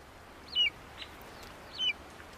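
Eagle chicks in a nest in the Atacama Desert give two thin, high begging calls about a second apart, faint and short against a quiet background hiss.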